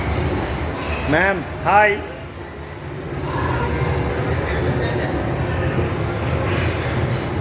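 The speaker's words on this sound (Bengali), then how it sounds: "Toy train." A colourful toy train rolls along a shopping mall corridor at Diamond Plaza with a low steady rumble, two short rising whistle toots early on, and a voice speaking briefly over it.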